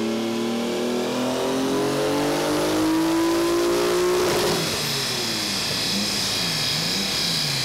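A modified street car on a dyno at a Dyno Day revs hard, its engine note climbing steadily to a loud peak, then cutting off as the revs fall away, with a roaring exhaust close up throughout.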